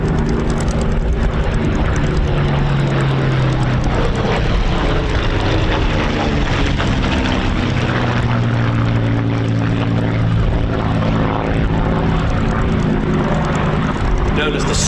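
A WWII United States Army Air Force fighter in 1944 309th Fighter Squadron markings flies at the Old Buckenham airshow, a loud continuous piston-engine drone under a commentator's voice throughout.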